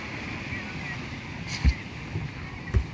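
Diesel engines of two company fishing boats, a 6BB1 and a single-engine 6H1, pulling hard downhill; a steady low rumble mixes with wind noise, broken by a few dull, heavy thumps.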